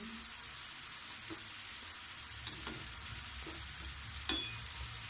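Cashew-shaped namak pare frying in hot oil over a low-to-medium gas flame, a steady close sizzle and bubble running throughout, with a few soft clicks and stirring taps from turning the pieces.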